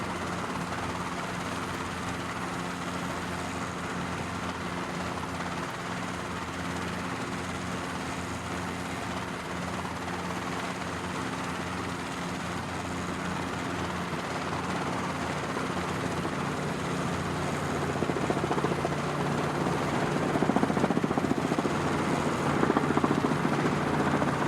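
A Cowan Simulations R22 helicopter in Microsoft Flight Simulator, flying near El Nido, gives a steady droning rotor and engine hum that holds constant and grows somewhat louder toward the end, with no talking.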